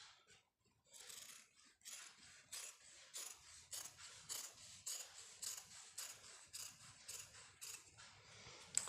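Scissors cutting through salwar cloth along a marked line, a steady series of close, crisp snips and rasping blade strokes repeating roughly every half second, with no talk.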